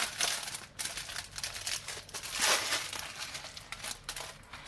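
A Shein necklace being unwrapped from its plastic packaging gives close, steady crinkling and rustling with a few sharper crackles partway through, and no talking over it.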